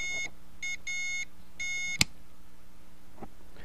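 A ten-meter ham radio beacon keyer sounds short, pure Morse sidetone beeps in quick dot-and-dash bursts. The beeps are fairly faint and clean, with one sharp click partway through and no voices.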